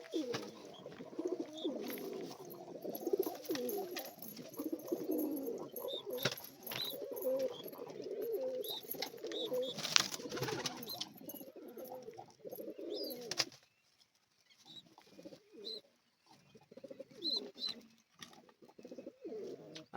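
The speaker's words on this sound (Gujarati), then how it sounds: "આ છે આપણા કબૂતર કહાની." Pigeons cooing in a coop, repeated low throaty coos near and clear for most of the stretch, dropping to quieter sparse calls after a brief lull.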